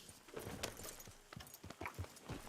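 Horse hooves clip-clopping in Red Dead Redemption 2, a faint, uneven run of soft thuds and scuffs close by with no talk over them.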